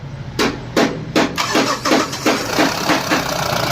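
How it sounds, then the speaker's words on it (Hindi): Mahindra Bolero engine being started after an engine cleaning for a starting fault, a rapid series of loud, rhythmic cranking bursts, about eight close together, heard close up with no talking. "गाड़ी स्टार्ट करो, चाबी ऑन कर, रुक जा, ऑन कर देगा।"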